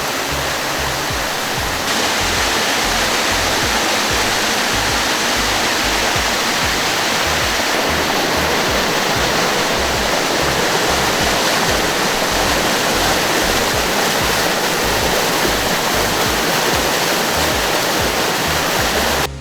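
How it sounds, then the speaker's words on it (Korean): A mountain valley stream runs after rain beside a path up to a temple, a steady, loud rushing of water that fills the whole stretch without pause and with no voices. "여기 보시면은 옆에 시원한 계곡 물소리가 계속 들리고요"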